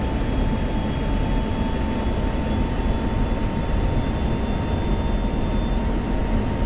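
Steady, dense jet engine roar from an afterburning fighter in the flight simulator DCS, a constant broadband rush with a faint high whine, loud and unbroken throughout with no voices.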